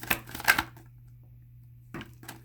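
Tarot cards being shuffled by hand in a short burst of papery riffling, then quiet, then a couple more soft shuffle sounds near the end.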